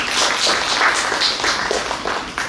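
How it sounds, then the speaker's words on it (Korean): Audience applause at a summer seminar in Sejong welcoming a speaker to the floor, a steady wash of many hands clapping throughout, fairly loud, with no talking over it. "일단 임재일 소장님 먼저 한번 큰 박수로 모시겠습니다"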